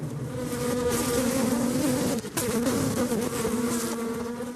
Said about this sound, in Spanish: el canto de las abejas obreras, una señal de que la colmena está siendo perturbada